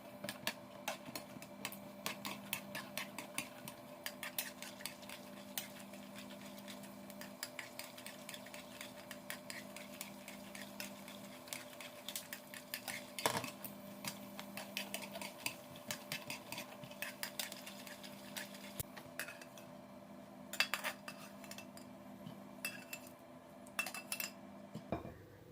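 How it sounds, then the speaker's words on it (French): Almonds toast in hot oil in a pan as they are stirred, with faint scattered clinks and scrapes of a utensil against the metal over a low, even background sizzle. "tu peux soulever ta poêle et continuer à mélanger pour les faire dorer des deux côtés"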